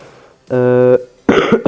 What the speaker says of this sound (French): je tousse un petit peu en ce moment